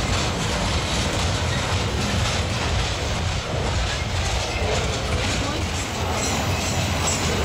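A train rolls along the railroad as a steady, loud rumble with faint rhythmic clatter from the wheels, and some speech is mixed in.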